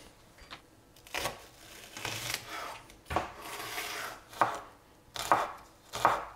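A knife chops a washed onion on a cutting board with uneven bursts of sharp cuts, several strokes landing close together and then pausing, heard close up with no talk.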